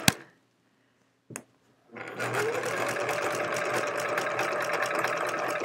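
A sewing machine runs at a steady fast stitching pace while quilting a hedgehog quilt, starting after a couple of short clicks and near silence, then holding a close, continuous mechanical whir to the end.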